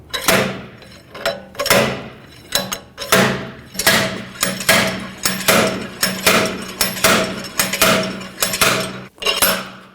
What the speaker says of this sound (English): Now I'm using a slide hammer and we're going to pull the hub right out.